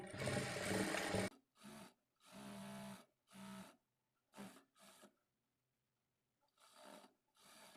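A sewing machine stitches short runs along a blouse side seam, several brief bursts of whirring separated by pauses, close and fairly loud with no talk.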